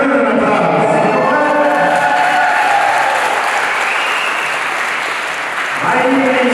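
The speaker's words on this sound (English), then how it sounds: "let's give them an applause." Wedding guests break into loud, sustained applause for a young couple, many hands clapping close by with cheers and excited voices mixed in; the clapping thins briefly near the end before swelling again.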